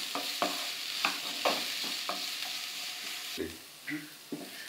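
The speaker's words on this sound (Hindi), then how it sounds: "इसको थोड़ी देर भून लें जब तक शिमला मिर्च हमारी नरम हो जाए।" Thinly sliced, long strips of capsicum sauté in a pan for gobi manchurian, giving a soft continuous sizzle broken by several sharp spatula scrapes and taps.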